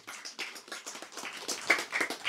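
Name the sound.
audience clapping for Bang Bimo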